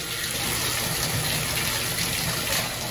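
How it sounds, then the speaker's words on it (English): Household faucet running into a hose, producing a steady, dense rush of flowing water that stays even and loud throughout with no pauses. "You're gonna turn on your faucet."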